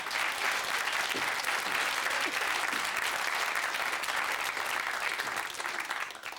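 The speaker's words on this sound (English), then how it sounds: "give him a round of applause, then" Audience at a children's puppet show applauds, a dense, steady wash of clapping from many hands that holds for several seconds before easing slightly at the end.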